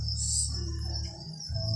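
Thai yellow crickets chirp in a steady, dense, high-pitched trill that continues unbroken through the whole stretch, fairly close and alone with no talking.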